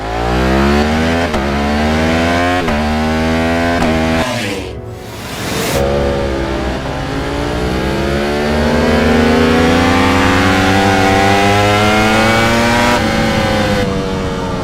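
A V4 motorcycle engine from 2019 revs hard and high toward 16,000 RPM, climbing and dropping in pitch through gear changes, loud and close with a brief dip midway.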